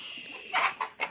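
A white rooster and a turkey hen cluck nearby, giving a few short, sharp clucks in quick succession against a quiet background with no talking.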